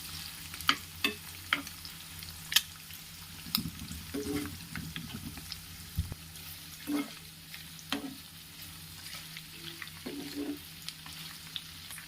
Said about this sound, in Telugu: వేడైన ఆయిల్లో ఈ ఎగ్ పీసెస్ని మనం ఫ్రై చేసుకోవాలి